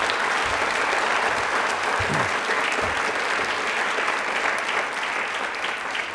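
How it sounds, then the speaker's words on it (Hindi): Sustained applause from a studio audience fills the room for several seconds, loud and dense with steady, even clapping and no pauses. "तालियां एक बार जोरों से शोरों से बजा दीजिए प्लीज"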